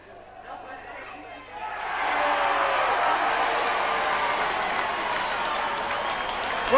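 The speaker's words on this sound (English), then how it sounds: "The crowd warmly appreciating the performance this afternoon by Cougars number 8, Ian Gately." A rugby league crowd at Batley v Keighley applauds Cougars number 8 Ian Gately. The applause starts modestly, then swells into a dense, steady wall of clapping and crowd noise that holds to the end.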